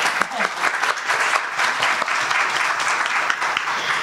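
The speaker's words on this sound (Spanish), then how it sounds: "ayer premiada, gran aplauso." A conference audience gives sustained applause for an award-winning editor, dense clapping from a crowd, steady and fairly close, with no break across the whole stretch.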